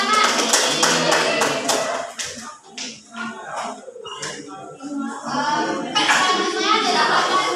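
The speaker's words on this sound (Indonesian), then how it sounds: "Ya, benar. Tepuk tangan." Children clapping together in a classroom, a burst of quick, uneven claps with hands tapping, loud and close, fading partway through and then rising again near the end, with a few children's voices mixed in.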